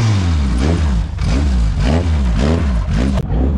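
A Formula 1 race car engine revs loudly and close by, its deep rasping tone surging up and falling back in repeated rapid blips, with no voices over it.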